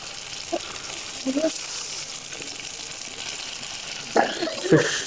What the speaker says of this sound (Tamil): நல்லா ஆயில் ஊற்றிட்டு நமக்கு ஃபிஷ்ஷை போட்டு நல்லா ஃப்ரை பண்ணி